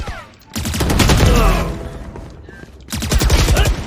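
Two loud bursts of rapid automatic fire from the Phantom rifle in Valorant, close and sharp, separated by a brief lull with a voice talking in between.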